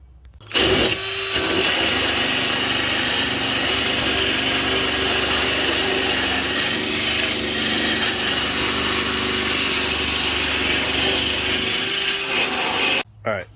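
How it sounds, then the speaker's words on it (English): A wire wheel brush spun by a drill scrubs the trunk tray of a Honda CRX under restoration, giving a loud, steady rasping grind that runs almost unbroken for about twelve seconds before cutting off. "what I'm doing is using this wire brush, wire wheel, whatever you want to call it, attached to the drill"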